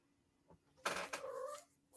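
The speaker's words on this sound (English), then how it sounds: "I don't know why he's sitting there meowing at me." A cat meows twice in close succession, a drawn-out, wavering cry followed by a shorter one, fairly near and alone in a quiet room with a faint hum.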